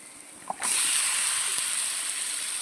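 Marinated chicken dropped into a hot pan with fried onion and ginger-garlic paste, bursting into a loud, steady sizzle after a soft clink that holds at full strength without any talking.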